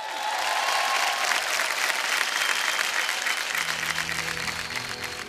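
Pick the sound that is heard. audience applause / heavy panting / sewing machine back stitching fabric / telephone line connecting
audience applause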